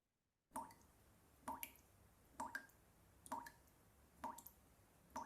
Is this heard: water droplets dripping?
yes